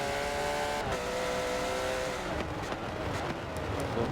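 Porsche GT3 race cars sweeping down the start-finish straight at Silverstone in a racing video game, a steady blended engine drone with rising and falling pitches as several cars pass, no voices.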